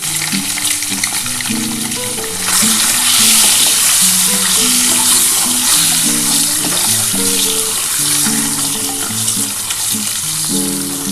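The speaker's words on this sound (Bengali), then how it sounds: "খুব বেশি ভাজবো না অল্প ভেজে আমি এটা ডিমটা তুলে নিচ্ছি" Eggs fry in hot oil in a pan, giving a loud, continuous crackling sizzle that swells midway and holds steady, with faint tonal background music underneath and no speech.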